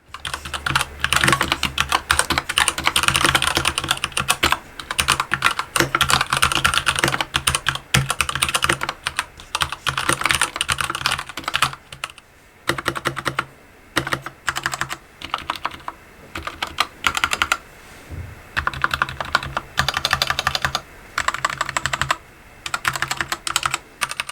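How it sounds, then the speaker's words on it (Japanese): Keychron K2 mechanical keyboard being typed on at length, a dense, brisk stream of close keystroke clacks with brief pauses partway through, loud and with no voices. "明らかに打鍵音とね、音が良くなっているんですよね"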